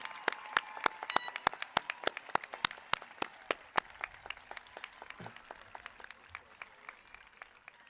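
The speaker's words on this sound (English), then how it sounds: "Let's give it a round of applause to all our staff that's here helping us today with promotion." Scattered clapping from a modest outdoor audience at a middle school promotion ceremony, honoring staff; sharp individual claps ring out in an uneven patter that gradually thins and softens toward the end.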